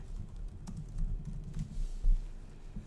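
Close-up computer keyboard typing, a quick run of soft, irregular key clicks over a low room hum, no voices, as a job search query is entered.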